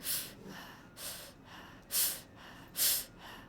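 Four sharp nasal or mouth breaths taken in a breathing demonstration, spaced roughly a second apart, each a short airy rush close to the listener with quiet pauses between.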